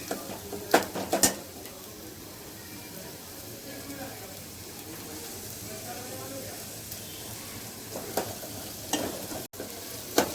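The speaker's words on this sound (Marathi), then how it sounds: "आता हे टाकला कांदो तर कांदो थोडंसं आपण परतून घेऊया" Onion sautéing in a pan for a Malvani curry, a soft steady sizzle with a few sharp clinks of a spoon stirring against the pan, close and moderately loud while someone talks over it.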